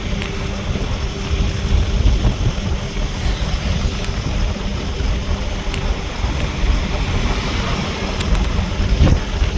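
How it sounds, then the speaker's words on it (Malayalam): Strong coastal wind by the sea roars continuously against the microphone, heard from inside a moving truck on a Kerala road, a loud, steady low rumble with no talk. "കാറ്റ്"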